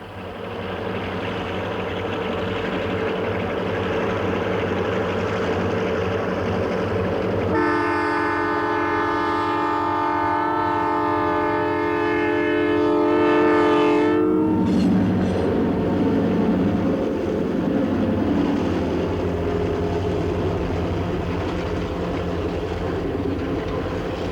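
The Canadian passenger train climbs the steep Big Hill grade in the Rockies in winter 1987, a long drawn chord of the train horn sounding loud and steady over a continuous rumbling rail roar, then fading back into the grinding run.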